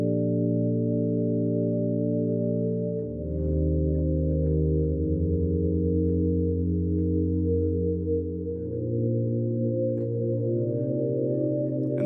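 A smooth, pure-toned sine synth pad holds sustained chords that shift twice, soft and airy with a reverberant wash, playing alone.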